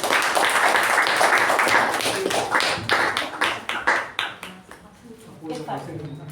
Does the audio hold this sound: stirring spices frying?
no